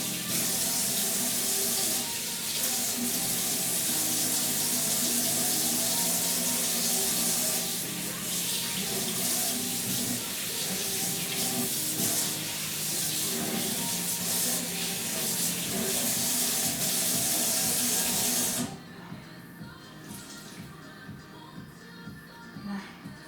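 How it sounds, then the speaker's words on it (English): A kitchen tap runs steadily into a sink during cleaning, a constant close splashing rush that ends abruptly near the end, leaving faint clinks and shuffling handling sounds. "I'm going to clean up the sink"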